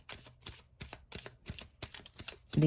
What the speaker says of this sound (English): All right, one last shuffle here. And divide the deck.